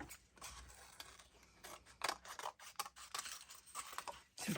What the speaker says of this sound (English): then I will trim this off